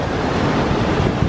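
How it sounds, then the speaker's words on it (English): Ocean waves crash against rocks on the coast of Mexico, a loud broad churning wash of surf with wind buffeting the microphone, steady and close with no voices. "we're amazed by the rocks and the waves that are hitting the rocks right now"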